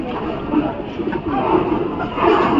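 Pigeons at a busy pigeon market coo in low, rolling bursts close by, with a murmur of market noise around them.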